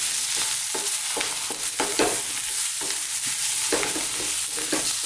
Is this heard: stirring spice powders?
yes